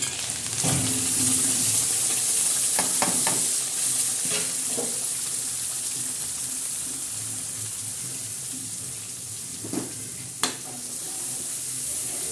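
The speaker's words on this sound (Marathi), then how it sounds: "असं चांगलं करून घ्यायचं मसाला चांगला परतला ना मग भाजी चवदार लागते" Masala for a simple village-style mutton curry fries in a pan, a steady close sizzle broken by scraping and clinking as a spoon stirs it, with no voices.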